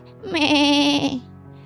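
A person imitates a goat's bleat in a wavering, nasal voice during a singing contest, one sustained quavering cry of about a second, close and loud.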